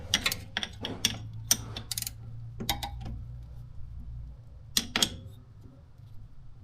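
A socket wrench working on the rusty rear shock absorber of a BMW E90, giving quiet bursts of sharp ratcheting clicks close by, with a low hum underneath and pauses between the turns.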